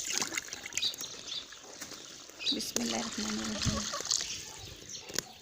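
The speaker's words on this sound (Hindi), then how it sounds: "और इसके साथ ही अब इसमें हम ऐड करेंगे पानी।" Water is poured from a glass onto masoor dal soaking for khichdi, giving intermittent splashing and trickling under a woman's quiet speech.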